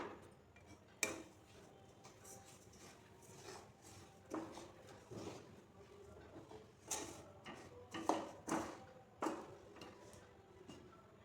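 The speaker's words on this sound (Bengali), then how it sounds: "এখন আমি তিলগুলো এতে দিয়ে দেব, দিয়ে নাড়তে হবে।" Sesame seeds stirred into cooled jaggery in a kadai for til naru, faint scraping and light metallic taps of a spoon against the pan recurring irregularly, close and soft.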